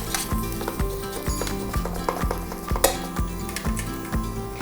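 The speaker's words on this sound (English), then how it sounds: "we're just going to add our garlic. Quickly saute that" Garlic sautés with roasted carrots in a pan, heard as a low sizzle under repeated rhythmic scraping and stirring strokes and light knocks of a utensil against the pan, close up and with no talking.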